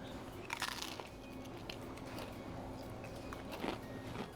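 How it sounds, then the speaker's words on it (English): Crispy fried chicken skin gets bitten at a Filipino buffet, with a few sharp, close crunches and brittle crackles over quiet room murmur, then softer chewing. "it's a crunch, shatteringly crisp"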